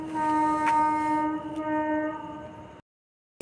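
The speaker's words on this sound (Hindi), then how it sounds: "दाल की सॉरी खिचड़ी की सीटी आ गई होगी।" Pressure cooker whistle sounding while khichdi cooks: a steady, loud tonal whistle held for nearly three seconds with strong harmonics, then it cuts off into brief silence before another burst starts.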